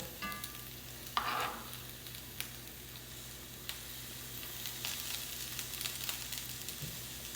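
Chopped onion sprinkled over Brussels sprouts frying in olive oil in a pan, a soft continuous sizzle with a brief louder crackle as the pieces land, plus faint occasional ticks of utensils.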